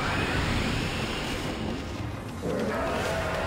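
Steady, loud rushing wind noise from the video game Okami, a broad roar that swells and shifts slightly with no voices.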